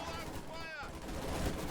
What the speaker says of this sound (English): Grenade coming in, it's machine gun.